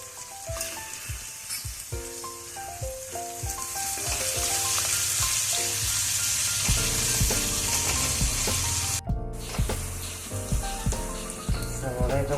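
Sliced onions fry in a pan with a pinch of salt for a potato curry, giving a steady, close sizzle mixed with loud background music.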